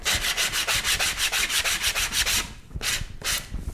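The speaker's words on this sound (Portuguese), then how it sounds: "você pode usar uma lixa fina aqui ou uma lixa de pé" Frayed fabric edges are rubbed with fine sandpaper or a foot file in quick, even back-and-forth strokes, about a dozen close rasping passes followed by two slower ones, with no talking.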